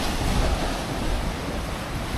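Sea waves on the coast of Malta, a loud, continuous rush of surf mixed with heavy wind buffeting the microphone, steady throughout with no talking.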